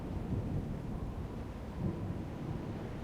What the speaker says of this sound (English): At least the storm isn't blasting in my head.